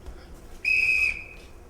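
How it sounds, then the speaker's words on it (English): A single loud, shrill whistle blast summons the household, a steady piercing tone of about half a second with a fainter, shorter follow-up toot, heard alone in a quiet room. "Everyone in this house answers to a whistle."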